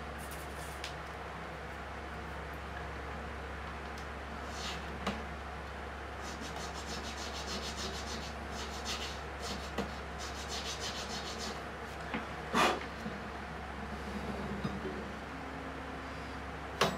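Frets being leveled on a Breedlove Artist OM SMe acoustic guitar, a steady soft abrasive rubbing of a sanding block over metal frets, continuous and close, with a constant low hum underneath and occasional light knocks.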